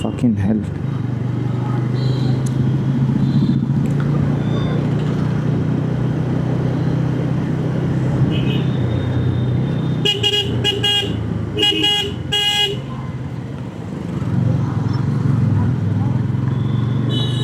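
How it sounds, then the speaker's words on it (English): Heavy night traffic jam heard from a motorbike, with a steady roar of engines and a cluster of repeated car and auto-rickshaw horn toots in the middle, loud and close. "And the jam, bro, the people, the totos"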